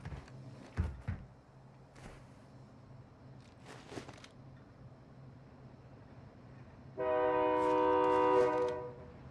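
A train horn in a video game sounds loud and steady for about two seconds near the end, after scattered gunfire-like cracks and thuds over a low rumbling background.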